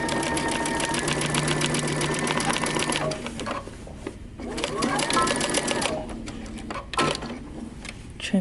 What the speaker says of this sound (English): I'm going to stitch.